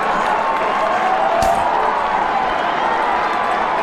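Stadium crowd at an FCS semifinal college football playoff game, a dense continuous roar of cheering and noise filling the whole stretch, loud and steady with a single sharp thump partway through.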